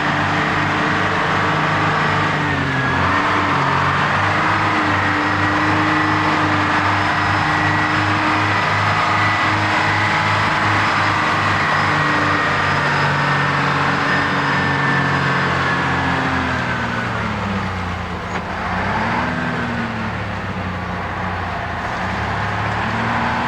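A truck engine labors up a hill, a loud, steady low drone whose pitch rises and falls as it works, continuous from start to finish with no talking.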